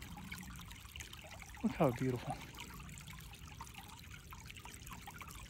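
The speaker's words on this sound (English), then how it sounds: "The sound of the water" A small stream at Oak Mountain, Alabama, trickles in a soft, steady wash. A voice speaks briefly over the faint running water.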